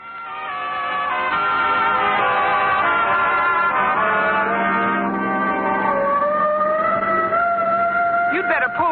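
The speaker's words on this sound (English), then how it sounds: "Oh, the siren. No, that's on our car." Police car siren on a car in an old radio comedy, a wailing tone that rises and falls continuously for several seconds, close and loud, with a voice briefly near the end.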